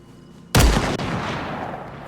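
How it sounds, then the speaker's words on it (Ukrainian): Gunfire in the video game DayZ: one loud, close shot erupts sharply, then a second crack follows and a long rumbling echo trails off. "По мені стріляють."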